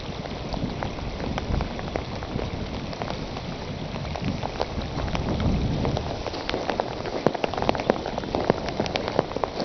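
Steady rain falls and patters on surfaces nearby, a dense continuous hiss sprinkled with distinct droplet ticks throughout, with no voices.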